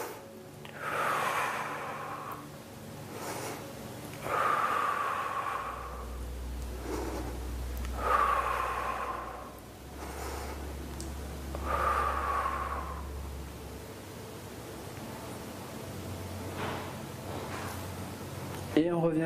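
Slow, rhythmic, audible breaths during a bodyweight glute exercise: four long airy exhales spaced a few seconds apart, close by, with a low background hum and no clear talk.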